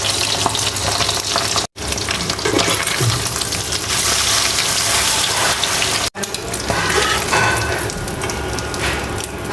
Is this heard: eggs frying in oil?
yes